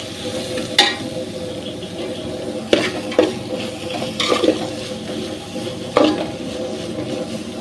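Onions frying in a pan for a green coconut chicken curry, a low steady sizzle broken by several sharp clinks and scrapes of a spoon stirring against the pan, no voices.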